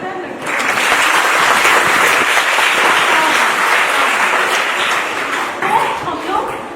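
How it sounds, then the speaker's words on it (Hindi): Loud, sustained applause from a crowd at a self-defense program fills the room, steady for several seconds before easing slightly at the end. "तालियां बजा दो यार लड़के"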